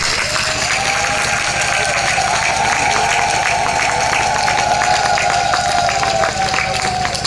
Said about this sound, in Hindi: ताली जी बहुत ढीली ढाली बजा रहे हैं